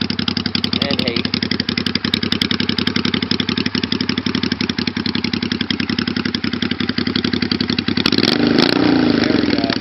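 A Honda Shadow VT500 bobber motorcycle idles cold through its exhaust, a close, loud, rapid steady chug that swells into a brief rev near the end.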